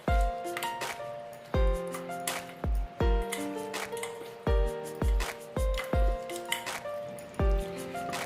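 Chicken is mixed by hand with mustard oil and turmeric, giving close, wet, squishing slaps in a steady rhythm, repeating roughly every half second to second.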